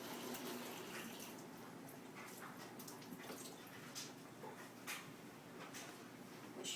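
Fresh basil being washed under a running tap gives a faint steady stream of water with soft splashes and light handling clatter, with no talk.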